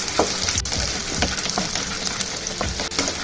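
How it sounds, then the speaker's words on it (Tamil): Dried red chillies sauté in hot oil in a pan for garlic chutney, giving a steady close sizzle with scattered crackles and light stirring scrapes throughout. "இப்போ இந்த வரமிளகாவும் நல்லா வதங்கணும்"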